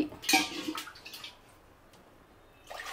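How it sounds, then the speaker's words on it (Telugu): Water pouring into a glass while making jonna ambali, a sorghum porridge, heard as a short near splashing trickle that fades, then a brief second pour, with no talk. "నేను 3 గ్లాసులు వాటర్ పోసుకుంటున్నా"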